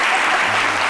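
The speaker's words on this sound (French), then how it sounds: "On l'acclame quand même." Audience clapping on a French TV show set, a short dense burst of loud applause that carries evenly to the end.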